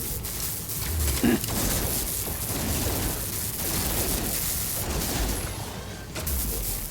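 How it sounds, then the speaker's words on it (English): A neutron cannon fires repeatedly in the space game No Man's Sky, with heavy booming, blast-like shots that keep coming in a dense, loud barrage across the whole stretch with no pause. "Also the neutron cannon, it is way easier to do."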